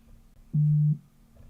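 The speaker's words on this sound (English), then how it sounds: "Something beeped. Messenger, 2 notifications." A Messenger app notification sounds as one short, steady electronic tone lasting under half a second, clear against a quiet background.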